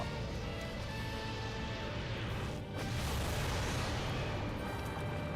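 Fireworks bursting in a Final Fantasy video game, heard as a dense, loud, continuous wash of crackling booms with a brief dip midway before the barrage resumes.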